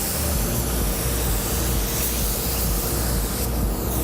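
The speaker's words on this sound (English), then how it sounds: "We actually just clear coated the headlight." A spray gun hisses loudly and continuously while applying clear coat to a car headlight at a collision repair shop, a steady close-up rush of air with a slight change near the end and no voices.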